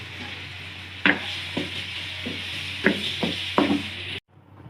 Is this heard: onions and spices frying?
yes